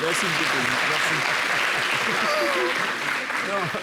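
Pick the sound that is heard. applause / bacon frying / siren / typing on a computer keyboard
applause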